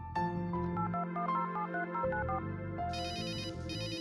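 In the Runaway adventure game, a phone call rings through as an electronic melodic ringtone, a short tune of bright tones followed by higher trilling rings, alone without talk.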